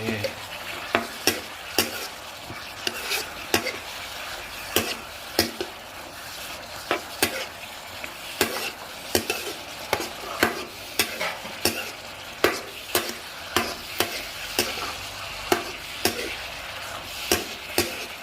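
Chicken with ginger is stir-fried in a pan under a constant sizzle, and a spatula scrapes and clanks against the metal in a quick, steady rhythm of sharp strikes.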